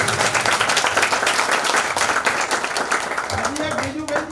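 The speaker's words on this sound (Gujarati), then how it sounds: "તો એક વખત જોરદાર તાળીઓ પાડો" A large audience claps loudly and steadily throughout, a dense wash of applause with a voice rising briefly near the end.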